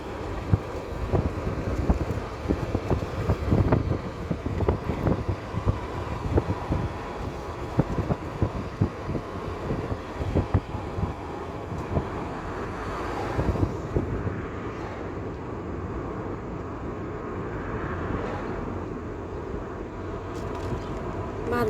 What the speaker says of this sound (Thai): ลมมันแห้ง